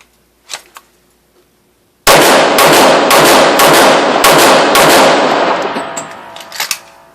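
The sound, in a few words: six rapid pistol shots at a target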